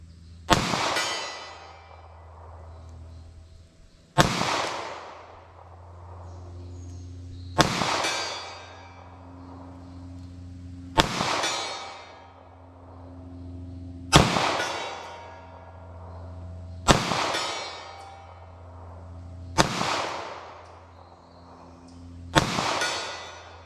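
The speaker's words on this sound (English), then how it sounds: "want to see if I can make any shots here at 75 yards" Eight sharp pistol shots from a 9mm subcompact semi-auto firing 147-grain Winchester Ranger One rounds at 75 yards, spaced about three seconds apart, each a loud crack with a long outdoor echo tailing off.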